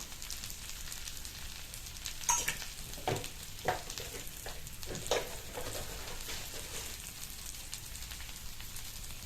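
Chilli powder, coriander powder and garam masala are stirred into a dhaba-style stuffed brinjal curry. A low, steady sizzle runs throughout, with several scraping strokes of a spoon against the pan.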